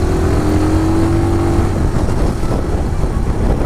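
A Bristol BR 250 250cc motorcycle is ridden with a loud, steady engine drone whose pitch sags slightly before easing into rougher, broadband road and engine noise.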